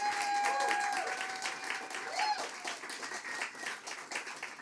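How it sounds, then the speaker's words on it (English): An audience at a talk gives a round of applause, a dense patter of clapping that stays fairly faint and distant, with a voice faintly present over it. "One more round of applause."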